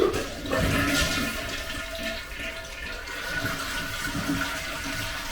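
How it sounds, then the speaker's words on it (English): A toilet with its tank lid removed, fitted with a touchless flush kit, flushes with a loud, close rush of water that churns and swirls, then settles into steady refilling, with no talking. "We're going to go ahead and flush it."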